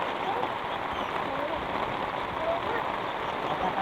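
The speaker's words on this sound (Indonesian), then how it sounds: "Karena kan hujan ini alhamdulillah" Heavy rain pours down steadily over an outdoor garden cooking spot, a dense, even hiss that never lets up across the whole stretch.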